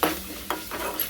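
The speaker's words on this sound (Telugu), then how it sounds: "బాగా కలుపుకున్నాను." Chili powder being stirred into a pan of cooked onion and ginger curry base for egg curry, a few soft scraping strokes over a low sizzle, close and brief with no talking.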